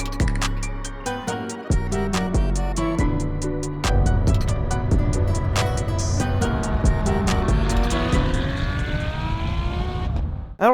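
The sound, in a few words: Ferrari 599 GTO car driving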